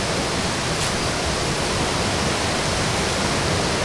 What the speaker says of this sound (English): I don't know if you can hear me through the waterfall. It's like really loud